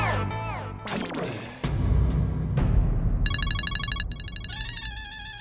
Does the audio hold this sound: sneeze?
no